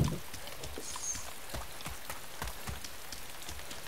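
Rain falls steadily in the video game DayZ, a soft continuous patter of drops on surfaces without voices.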